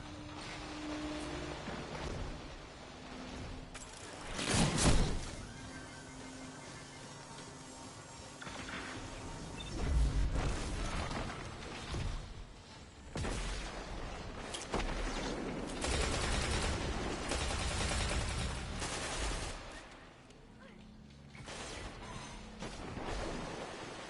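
Gunfire in the Destiny 2 Supremacy mode, repeated bursts and single shots of varying loudness over about twenty-four seconds, with a few heavier blasts standing out.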